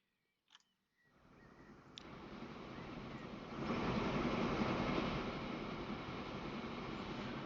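A steam train running in the railway game Transport Fever 2, heard as a steady rushing, rumbling roar that starts after a brief click and swells louder midway before holding steady.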